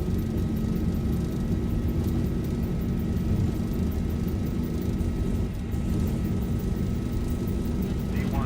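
Airliner takeoff roll in the X-Plane 12 flight simulator with the Zibo 737 departing Denver: a steady loud engine roar and rumble with a constant tonal whine that continues without a break.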